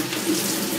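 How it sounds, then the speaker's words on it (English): Hot tap water runs into a cooking pan for chicken broth, a brief steady rushing stream, loud and close with no talk. "what we need to do now is to fill up with water."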